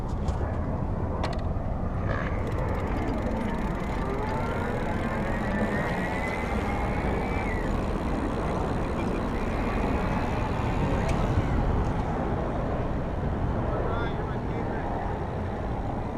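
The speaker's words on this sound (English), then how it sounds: "You can hear the motor and see how responsive it is when I start and stop pedaling." An e-Joe Anggun 3.0 electric bike motor runs on its twist throttle. A faint whine rises and falls twice beneath steady, loud wind and road rush throughout.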